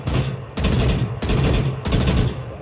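A Vandal rifle in Valorant fires in four sustained full-auto bursts, loud and close, with short pauses between them.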